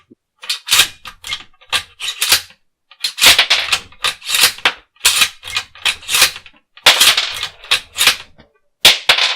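Bolt of a Marlin XL7 rifle in .222 Rem worked repeatedly to chamber and eject cartridges, a series of sharp metallic clacks and slides in quick bursts separated by brief pauses, close and loud.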